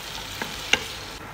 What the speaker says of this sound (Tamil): நல்லா கிளறி விடுங்க. மசாலா முழுக்க மட்டனில் கலக்கணும்.